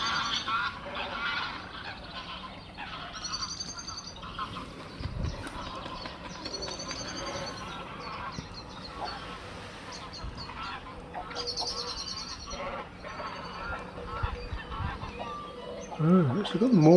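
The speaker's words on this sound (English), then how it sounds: "A couple of geese going over there." A couple of geese pass overhead at Castle Water with faint, scattered honks over a steady outdoor background, while someone talks quietly throughout.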